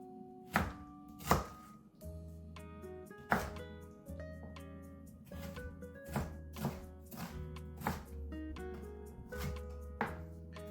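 A knife chopping the tough root ends of kimchi on a cutting board for kimchi fried rice, irregular sharp knocks, some quick and clustered, close and clear over a faint low hum.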